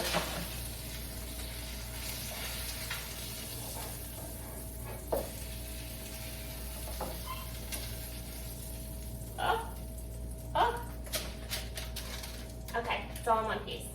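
A porterhouse steak sears quietly in a pan, giving a soft, low sizzle with scattered clinks and scrapes of utensils. A few faint sounds come near the end.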